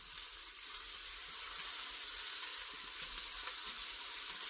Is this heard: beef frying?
yes